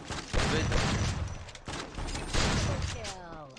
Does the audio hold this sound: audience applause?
no